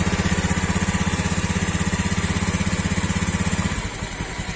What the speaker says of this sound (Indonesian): Kita dengar baik-baik suara mesinnya.